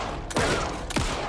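Two loud, close gunshots a little over half a second apart ring out in the survival horror video game Alan Wake 2, each leaving a falling echo over a dense background.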